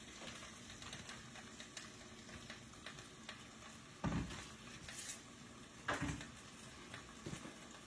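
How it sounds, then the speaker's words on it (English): Green beans sizzle steadily in a frying pan, a continuous crackling hiss with occasional louder stirring scrapes and pan knocks around the middle and later, close by with no talking. "Just something about a sizzle in a pan."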